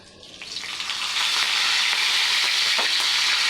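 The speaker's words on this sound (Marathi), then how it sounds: "तेल टाकलं आहे थोडंसं जिरं अगदी थोडासा असा हिंग थोडासा कढीपत्ता" Cumin, asafoetida and curry leaves sizzle in hot oil in a pan, a loud, steady frying hiss that swells up within the first second and then holds evenly, with no talking.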